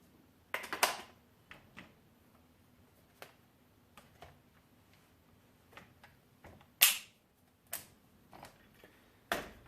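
Falkor Defense Alpha 308 suppressed rifle parts being reassembled after cleaning, heard as a run of scattered sharp metallic clicks and ticks at close range, with quiet gaps between them and no talking.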